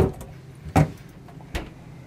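Cabinet-style doors in the bathroom of a 2002 Beaver Patriot Monticello 40B diesel pusher motorhome bang shut twice, sharp close knocks about a second apart over quiet room tone.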